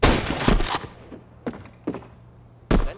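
Counter-Strike 2 gunfire on the Mirage map: a loud burst of rapid shots at the start, then isolated single shots spaced apart and another sharp burst at the end, close and punchy.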